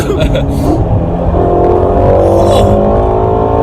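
A Ferrari California T engine pulls hard at full throttle, a loud steady drone with rising harmonic tones building over several seconds, close inside the cabin with road rumble underneath.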